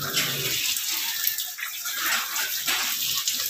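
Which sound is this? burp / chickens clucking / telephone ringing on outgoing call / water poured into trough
water poured into trough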